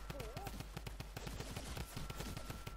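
Rapid automatic gunfire from the video game Fortnite rattles in quick bursts throughout, with voices chatting over it.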